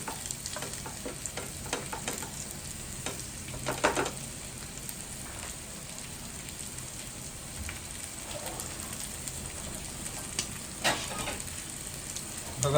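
Stuffed okra (bharli bhendi) stir-fries in a pan, with a continuous soft sizzle and scattered spatula scrapes and clicks spread through a long, close, quiet stretch without talk.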